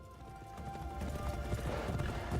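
Horse hooves clip-clop steadily in Assassin's Creed Shadows as the horse moves along, a continuous rhythmic patter set in a dense game soundscape with no speech.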